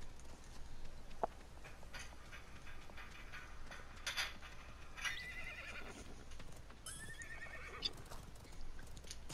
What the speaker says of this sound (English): I love the fact that there's horses in this game to get around faster